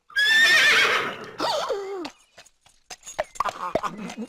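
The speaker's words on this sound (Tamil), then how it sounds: "கணிச்சது குதிரையடா" A horse gives a loud, shrill whinny up close, then hooves clop and people talk briefly afterward.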